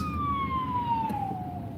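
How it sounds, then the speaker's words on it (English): A siren wails steadily with a slow falling tone, heard at a moderate distance above a low rumble of background noise. "That siren wasn't us."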